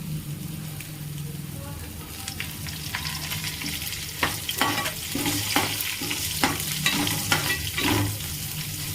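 Chicken chukka sizzles steadily in a pan as mint is added. A dense crackle of frying runs throughout, with rhythmic spatula scrapes and stirring knocks growing busier in the second half.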